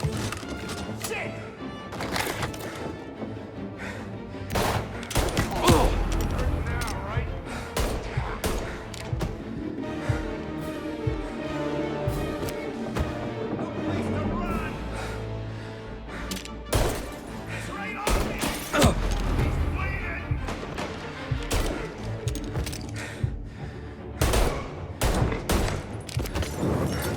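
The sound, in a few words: gunfire in shootout, Mafia Definitive Edition video game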